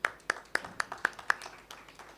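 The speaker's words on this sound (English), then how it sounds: "I think they really deserve a huge applause." Audience at a press event in Pwani marks the moment with a short burst of applause: about six crisp, evenly spaced claps stand out near the start, then fade into softer scattered clapping over a quiet room.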